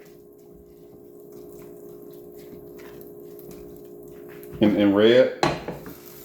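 Rice stirred in a pot while making jollof rice, a quiet hum underneath, then a few seconds of close scraping and clinking of a utensil against the pot, with a brief spoken word.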